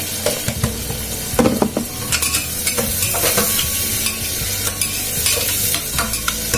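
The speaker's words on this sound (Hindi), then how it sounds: "मैं, और प्याज को पूरा लाल होने तक भूनूंगी मैं" Onions sizzle and fry in a pan for an Odia-style mutton dish, a steady loud hiss with repeated scraping stirs and clanks throughout, no voices.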